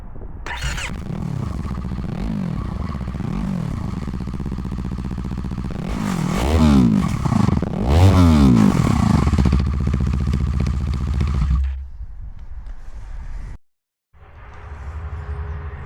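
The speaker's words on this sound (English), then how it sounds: "Let's have a listen without any exhaust." A 2025 Yamaha R3 motorcycle engine runs with no exhaust fitted, a loud, raw close-range drone that rises in several sharp revs around the middle and then settles back to a lumpy idle before briefly cutting out.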